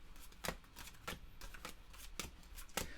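Unsleeved board game cards are riffle-shuffled close by in a quiet room, giving sharp papery bursts at an uneven rhythm of roughly one to two per second.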